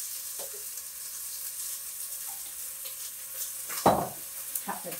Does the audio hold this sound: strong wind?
no